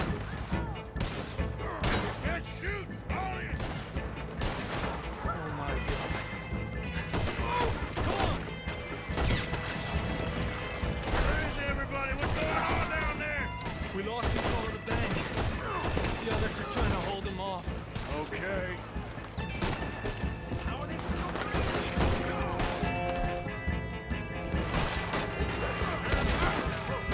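A bank shootout in Red Dead Redemption 2 brings dense, continuous gunfire with crashes and sharp impacts for nearly half a minute, loud and chaotic, with voices talking over it.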